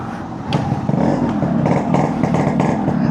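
A Yamaha RX135 two-stroke motorcycle engine revs close by, a continuous raspy buzz that climbs and surges in pitch with several throttle blips.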